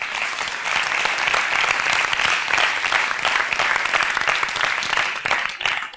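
Sustained, dense applause from a lecture audience, loud and steady throughout with no talking over it.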